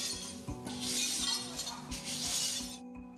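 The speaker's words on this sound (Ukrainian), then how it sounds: "Ось комунальники прибирають розбиті шибки та куски фасаду після ворожого удару по однім із підприємств міста" Municipal workers in Nikopol clear broken window glass and pieces of facade after shelling hit a city enterprise, with continuous close crunching, scraping and clinking of shards that ends abruptly.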